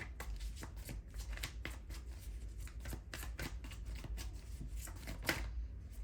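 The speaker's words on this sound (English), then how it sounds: "Let me do a quick shuffle because these cards are acting up." Rapid riffling and snapping of tarot cards being shuffled, a quick uneven series of crisp flutters up close, with no talking.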